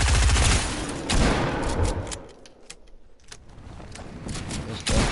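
Rapid gunfire bursts in a video game, loud at the start, easing into scattered shots and clicks, then another loud burst near the end.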